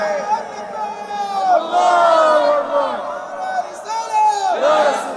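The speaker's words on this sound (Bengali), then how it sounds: "এটা তাকবীর হবে" A huge crowd at a religious gathering chants takbir in unison, loud sustained roaring voices with rising and falling pitch, repeated in waves.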